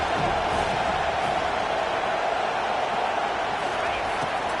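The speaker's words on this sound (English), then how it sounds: "Decibels rising as the crowd gets behind this defense on 3rd down" Stadium crowd roaring at a football video game as the defense lines up on third down, a steady dense wall of noise that holds loud throughout.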